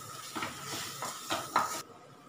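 A spatula scrapes and knocks in a pan as a salted, spiced paneer mixture is stirred and cooked, with repeated soft scrapes, a brief metallic clink and then sudden quiet.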